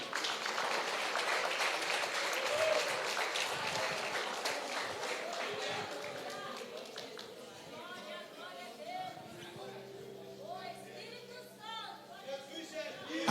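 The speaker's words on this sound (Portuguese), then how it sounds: "Senta aplaudindo o Senhor Jesus aí." Church congregation applauding, a steady wash of clapping with crowd chatter that gradually thins out, with voices and some music emerging toward the end.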